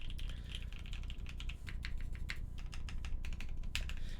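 Fast, steady typing on a mechanical keyboard fitted with C3 stabilizers, a dense run of crisp close-up clacks with no voices.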